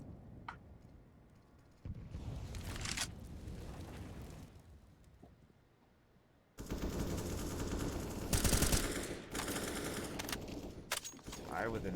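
Rapid automatic gunfire and bursts from a competitive online shooter match between Mythic and Synthetic. The shooting is loud and dense and comes in sustained volleys, with a quieter stretch between, under a commentator's voice.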